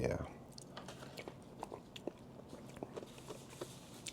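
Biscoff soft serve ice cream with Biscoff crumbs being chewed up close, soft crunchy bites repeating irregularly at low level over quiet background noise.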